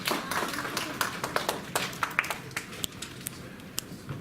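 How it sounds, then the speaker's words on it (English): Audience clapping at a diaspora business event, a short burst of scattered hand claps that thins out into isolated claps, with voices talking over it. "Can we give it another hand of applause, please?"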